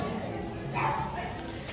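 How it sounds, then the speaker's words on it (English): Dogs scrapping at a garden centre give a short burst of barking a little way off, heard over the hum of shoppers and nearby talk. "Dog's kicking off."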